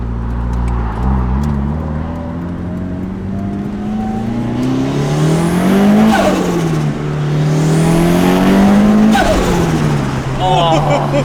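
A Mitsubishi EVO engine revs loud and close while driving, pitch climbing and falling in repeated surges with a sharp rise near the middle and again toward the end, steady road roar underneath.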